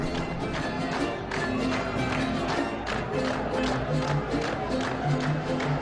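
A crowd at a Soviet party congress applauds at length in a hall, a dense, steady wash of many hands clapping, somewhat distant and unbroken throughout.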